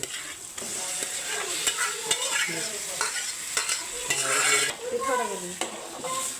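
Boiled shevla vegetable is stirred into masala in a pan, with a steady close sizzle and repeated scraping of the spoon against the metal. No one speaks.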